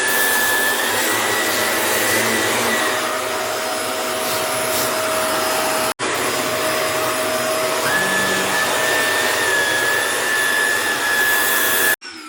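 A Bissell CleanView Swivel Rewind Pet upright bagless vacuum cleaner runs on carpet, a loud steady whine and roar held close with two brief dropouts where the motor cuts and restarts.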